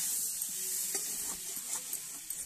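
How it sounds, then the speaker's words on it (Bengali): Potatoes stirred with salt in a pan for aloo dum: a quiet, steady sizzle with light, irregular scraping taps of a spatula, close by and with no voices. "লবণ দিয়ে একদম নাড়া ছাড়া করে নেবো"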